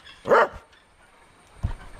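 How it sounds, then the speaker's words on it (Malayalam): Two barks from purebred dachshunds on a farm: one sharp, loud yap first, then a shorter, lower bark after a brief pause, with no talk over them. "ഡാഷന്റെ പ്യുവർ ബ്രീഡ് ഇതിൻ്റെ പട്ടികളാണ്"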